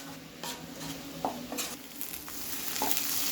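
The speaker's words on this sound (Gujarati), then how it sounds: "મીઠું નાખ્યા બાદ આપણે મિક્સ કરી લઈશું અને મીડિયમ ગેસ ઉપર ડુંગળીને સાતળવા દઈશું" Onions sautéing with salt in a pan over a medium gas flame for a dhaba-style paneer bhurji, a soft steady sizzle broken by a few stirring scrapes and clinks.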